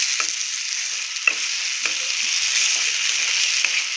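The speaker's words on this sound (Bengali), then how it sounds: "খুব সুন্দর আমি এটা কষিয়ে নেবো আগে চিকেনটাকে" Chicken sautéing with spices in a cooking pan gives a steady, close sizzle and hiss. Several sharper scraping stirs cut through it at irregular moments, and no one speaks.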